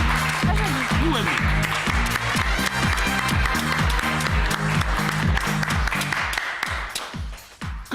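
Loud, sustained applause from a talent-show audience, dense rapid clapping that continues for several seconds before thinning slightly at the end.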